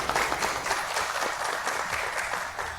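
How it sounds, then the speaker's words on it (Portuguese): An audience applauds steadily at a book launch, a dense, even wash of many hands clapping that holds throughout with no voices over it. "Uma salva de palmas para todos nós."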